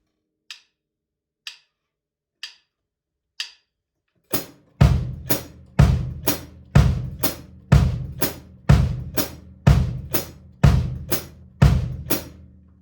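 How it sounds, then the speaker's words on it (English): A drum kit plays a coordination exercise: four soft clicks count in, then quarter-note hi-hat strokes with bass drum eighth notes between them, a steady repeating pattern, close and clear without talk. "We're going to be playing quarter notes with the hi-hat, and we're going to put the bass drum eighth notes in between"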